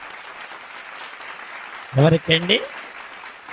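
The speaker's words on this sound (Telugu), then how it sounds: "చప్పట్లు కూడా దేవుని మహిమపరచండి." A church congregation claps to glorify God, a soft, steady patter of applause in the background while someone briefly speaks over it near the middle.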